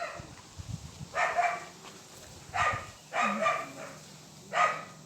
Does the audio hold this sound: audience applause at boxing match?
no